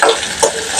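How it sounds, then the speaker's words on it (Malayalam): Tomato and crushed garlic frying in a pan for anchovy curry make a short, close sizzling hiss with a couple of soft crackling pops, and no voices. "ഞാൻ തക്കാളിയും ചതച്ച് വെച്ച വെളുത്തുള്ളി ഇതിലേക്ക് ഇട്ട് കൊടുക്കുക"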